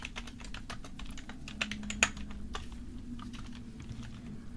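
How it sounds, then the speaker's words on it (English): Steady computer keyboard typing, a continuous run of quick, close key clicks with a few sharper taps, heard alone against a faint low hum. "We're gonna have some keyboard sounds today."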